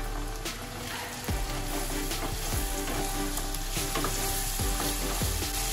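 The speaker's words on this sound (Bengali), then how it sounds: "এবার আমি এর মধ্যে দিয়ে দেবো 1 চামচ আদা বাটা, 1 চামচ রসুন বাটা। এটাকে একটু কষাবো।" Ginger and garlic paste frying with reddish-browned onions in a pan, a loud continuous sizzle broken by regular spoon scrapes and knocks against the pan as it is stirred, close and steady.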